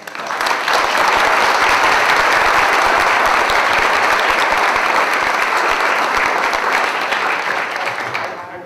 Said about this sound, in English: I wonder if we could have one big round of applause for Joan and the Legacy Society.